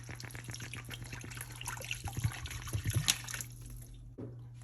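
Spring water from a bottle trickles and splashes into a pot of vegetable broth on medium heat, a close, moderately loud pour that gurgles for a few seconds and then stops.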